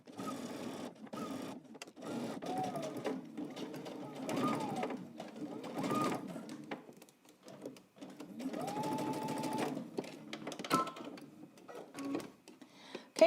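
A home sewing machine basting down a dress seam allowance, close rhythmic mechanical whirring in several bursts separated by brief stops, fairly quiet, with no talking.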